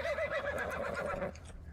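A horse in Rising World whinnies once, a close, wavering neigh lasting about a second and a quarter over low background noise.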